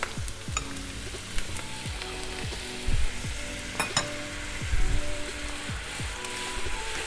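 Butter sizzles and foams steadily in a hot pan over moderate heat, a continuous close frying hiss with a few sharper crackles and pops, and no talking.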